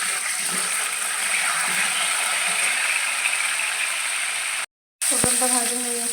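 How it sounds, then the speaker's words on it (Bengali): Pointed gourd pieces frying in hot oil give a steady, close sizzle that runs unbroken, then stops for a moment before picking up again. "পটলগুলো ভেজে নেব।"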